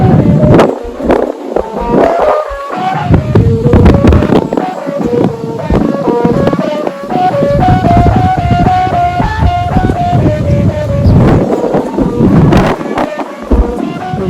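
In a strong wind, the rattan-headed hummer bow with plastic blades on a 115 cm Thai Chula kite in a Thai flag pattern hums loudly with a wavering, pulsing drone over continuous heavy wind rumble on the microphone.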